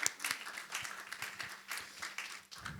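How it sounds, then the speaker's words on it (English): A small audience at a panel on music and society applauds quietly, scattered distinct claps rising and falling in uneven bursts, fading briefly near the end. "You can give that a round of applause."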